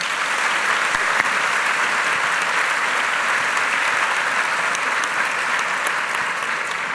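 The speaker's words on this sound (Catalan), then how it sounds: "Un aplaudiment per l'Emma." Audience applause for Emma fills a theatre at a short-film presentation at the Teatre Principal de Terrassa: dense, steady clapping from a large crowd, loud and continuous throughout with no pauses.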